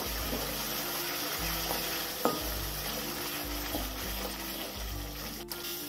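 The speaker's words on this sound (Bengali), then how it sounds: "সব মশলার সাথে আরো একবার ভালো করে কষিয়ে নেব" Spice masala with Kashmiri chilli powder being stir-fried for a Bengali katla fish curry: steady sizzling of oil under repeated scraping stirs of a spatula in the pan, close and continuous, with no voices.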